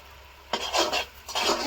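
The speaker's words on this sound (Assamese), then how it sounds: "এতিয়া মই এইখিনি আদা দি দিম।" Ginger is tipped into a cooking pot and stirred, giving two short bursts of scraping and soft sizzling against the metal, close and fairly quiet.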